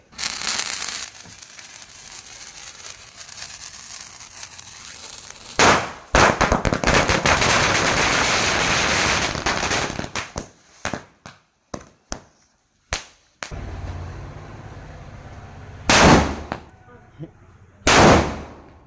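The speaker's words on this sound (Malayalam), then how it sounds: "നമ്മൾ ഇതിലേക്ക് തീ കൊളുത്തി കഴിഞ്ഞാൽ എങ്ങനെ കത്തുന്നു പൊട്ടുന്നു ഇപ്പോൾ കാണാം നമുക്ക്" A batch of lit firecrackers crackles in a long, dense rapid-fire string, followed by scattered sharp loud bangs and a few final isolated blasts, close and harsh.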